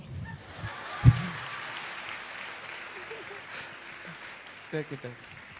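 An audience at a church gathering claps in a steady, moderate wash of applause while someone speaks over it, with a sharp thump early on.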